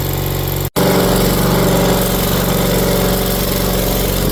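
A Miller AEAD200LE welder generator's engine runs steadily at auto idle, a close, loud, even mechanical drone with one brief cutout near the start before it continues uninterrupted.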